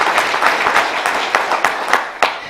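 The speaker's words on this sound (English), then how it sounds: "please give yourself a round of applause for that" A crowd applauds at a city center dedication ceremony in Rushville: steady, dense clapping with a few sharper claps standing out, sustained throughout at moderate loudness.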